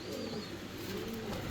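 A pair of fancy Mundian pigeons, a male and a female, coo in soft, low, rolling phrases close by, steady and fairly quiet.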